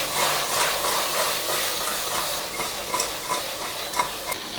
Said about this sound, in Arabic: ننزل بقى الكابوريا في الزيت اللي احنا حطيناه